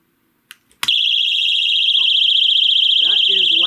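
A She's Birdie personal safety alarm goes off once its pin is pulled. A few clicks come first, then a piercing, warbling high siren sounds very loud and close and keeps going, with a voice speaking briefly underneath it.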